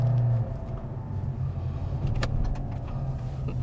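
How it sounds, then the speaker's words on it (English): A 2023 Toyota Vios climbs the Genting hill road at speed, its engine droning steadily from inside the cabin with a low road rumble beneath and a brief rattle near the middle. "This car is fast, actually."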